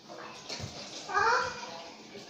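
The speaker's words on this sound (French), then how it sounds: "On va vider l'eau déjà, je pense." Water drains from a bathtub with a soft gurgle and swirl that swells briefly in the middle. Children's voices are faintly present in the room.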